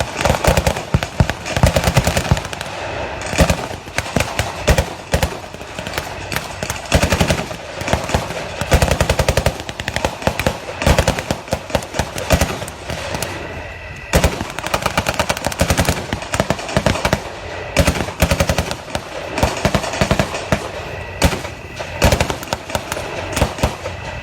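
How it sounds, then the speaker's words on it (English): Sustained heavy .50 caliber machine gun fire at a military show, loud and close, with long rattling bursts and overlapping shots continuing throughout with barely a pause. "As you can hear, 50 caliber machine guns."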